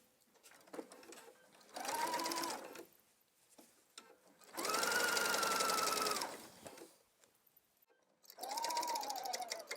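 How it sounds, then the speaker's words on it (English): A sewing machine sews a long 5/8-inch basting stitch on a garment in three separate bursts of whirring, the middle run longest and loudest, with quiet pauses between. "we're going to sew to the notch with a long basting stitch at 5/8"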